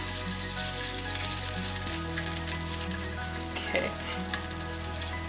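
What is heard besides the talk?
ginger garlic frying in oil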